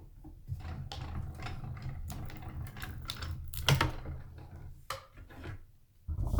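An AccuQuilt fabric die cutting machine cranked by hand as a die and mat pass through, giving close clicking, ratcheting mechanical sounds in an uneven sequence, with brief handling thumps and no talking.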